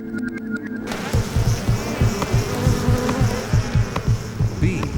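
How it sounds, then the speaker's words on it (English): Worker bees buzz in a dense, continuous drone that fills the scene after a quieter opening, with a steady pulsing throb underneath and no voices. "These worker bees spend their entire lives traveling from their hive to flowers, collecting pollen, and flying back again."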